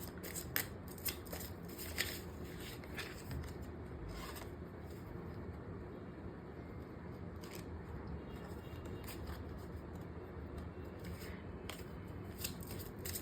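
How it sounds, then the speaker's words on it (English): Cards from a Romance Angels oracle deck are pulled out and shuffled, giving a steady papery rustle and soft rubbing with a few sharper card flicks throughout, close and continuous. "I'm pulling out two cards from the Romance Angels Oracle deck"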